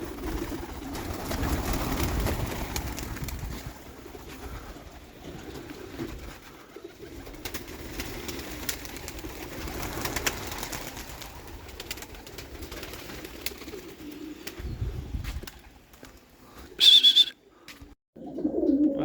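Pigeons in a loft, some with young, give soft repeated cooing and rustling close by, steady through most of the stretch, with a brief sharper sound near the end.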